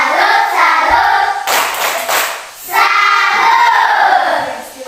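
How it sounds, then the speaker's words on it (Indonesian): A classroom group doing a rhythmic clapping chant, a patterned salute clap for a student team, with bursts of hand claps and children's voices chanting together, fairly loud and close. "mari kita memberikan tepuk salut untuk kelompok 3"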